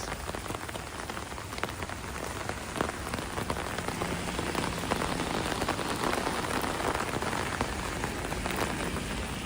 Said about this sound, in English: Almost sounds like when you're in a tent and camping and you just hear the rain.